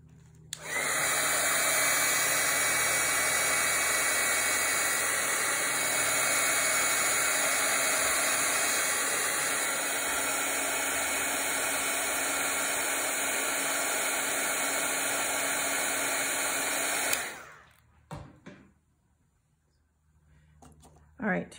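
Hair dryer blowing steadily on a painting, a loud, close, continuous rushing whine held for about seventeen seconds before it switches off, followed by quiet with a few faint knocks.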